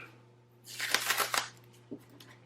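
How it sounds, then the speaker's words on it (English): A sheet of transfer tape for vinyl crafting is handled, giving a close, crinkly rustle lasting about a second, followed by a faint soft tap. "So I'm going to bring out my transfer tape."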